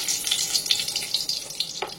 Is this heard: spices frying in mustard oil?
yes